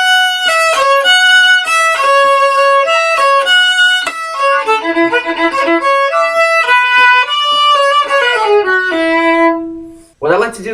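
Solo violin slowly playing the opening four measures of a chorus, clear sustained bowed notes in a steady melodic line, close and alone, ending with a brief noise.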